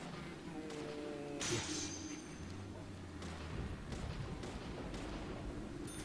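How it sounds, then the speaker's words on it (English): Muffled explosions in the game Deadly Premonition boom over a steady background hum, with a sharp crash early on and a few duller thuds later. "you can't be too close to those explosions"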